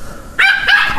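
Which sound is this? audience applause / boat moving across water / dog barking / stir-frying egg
dog barking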